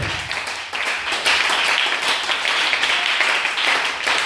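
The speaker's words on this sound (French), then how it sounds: "Nous pouvons donner l'acclamation au Seigneur." A church congregation claps in acclamation to the Lord during a French-language service, a dense, steady spread of hands filling the room for a few seconds at fairly loud level.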